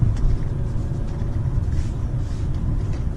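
Engine of a manual Chevrolet Cruze heard from inside the car, a steady loud low rumble throughout with slight rises as the gears change, no talk.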